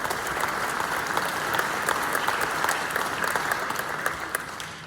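Applause from the audience at a spring band concert, a full, sustained roar of many hands clapping in a large room, steady and fairly close throughout.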